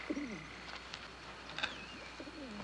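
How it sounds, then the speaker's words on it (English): A single bird calls close by in open country, a few low cooing, dove-like notes with faint chirps, repeating at intervals over a quiet outdoor background. "I hear the voice of a bird."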